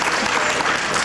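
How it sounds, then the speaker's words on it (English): Audience clapping during a motivational talk, a brief burst of dense, full applause from a crowd, loud and steady throughout with no pauses. "Yes, yes, just clap."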